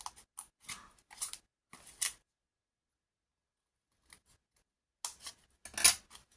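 Scissors cut along a drawn line on material for a customised notebook cover. Short, crisp snips come close up in small clusters, separated by silent gaps.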